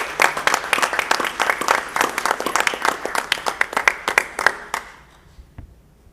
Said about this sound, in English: I think we can give them a brief round of applause